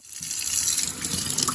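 Warm water pours steadily from a kitchen tap, a continuous loud gushing stream, for measuring into sourdough pizza starter.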